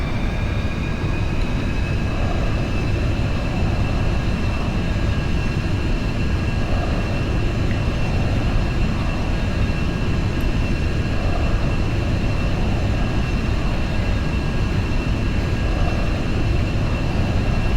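Aerobask Epic Victory jet in the X-Plane 10 flight simulator running its engines at max power on the takeoff roll, a loud steady turbine roar with a high whine and constant tonal hum, no speech.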